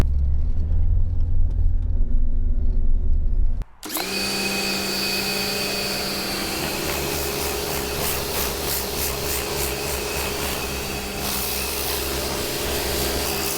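Vacuum cleaner cleaning a Porsche 944 interior with a household nozzle, starting abruptly after a low rumble and then running loud and steady with shifting suction tones as the nozzle moves.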